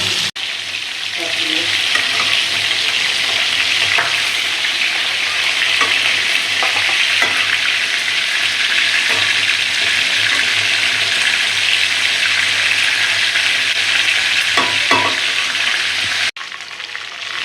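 Loud, continuous sizzling of chicken pieces frying in a pan for chicken roast, with occasional scraping stirs and a brief break near the end.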